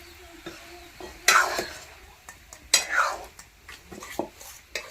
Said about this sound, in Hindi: तो दोस्तों देखिए अच्छा से भून लिए हैं फ्रसबीन और टमाटर, तो अब इसमें आलू मिक्स कर देते हैं।